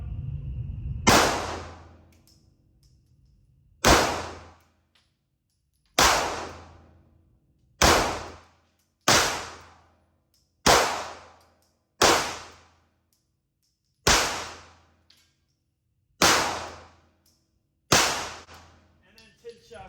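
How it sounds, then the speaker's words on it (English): Gunshots fired downrange while testing a Cuda RX-795 red dot sight, about ten sharp single reports spaced a couple of seconds apart, each ringing out and decaying, with no talk between them. "Shots downrange"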